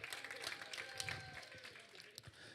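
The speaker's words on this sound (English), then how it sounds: "Come on, y'all give them a round of applause." Audience at a church student gathering clapping, a faint, scattered burst of applause heard from a distance over about two and a half seconds.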